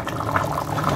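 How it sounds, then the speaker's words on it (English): A pot of plantain porridge with bush pepper bubbles steadily on the stove, a close, continuous low burble of boiling liquid with no voices over it. "Boiling very well."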